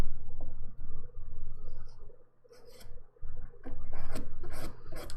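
A nail file rasps back and forth along the edges of dip powder manicure nails, steady close scraping strokes with a brief pause midway and quicker strokes toward the end.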